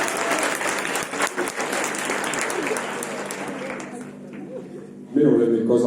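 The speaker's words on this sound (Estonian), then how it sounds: "nii et suur aplaus neile selle eest" Crowd applause at the Liikumispidu 2026 dance festival, honoring a boys' group performance: dense steady clapping for about four seconds that thins out, followed by a louder burst of tonal sound at the end.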